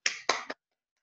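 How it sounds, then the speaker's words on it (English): Three quick hand claps, the first two evenly spaced and the third sharper and shorter, crisp and close, followed by silence. "clap your hands"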